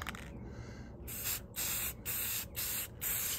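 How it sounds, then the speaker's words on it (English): Several short bursts of gloss black Rust-Oleum spray paint hissing from an aerosol can onto brake lines, each about half a second, separated by brief pauses, close and fairly loud. "spray this with a little gloss black Rust-Oleum and keep it from rusting up"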